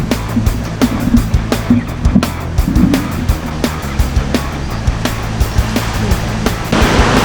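Loud, gusting typhoon wind roars continuously with repeated clattering knocks and rustling, a heavy stormy rush throughout.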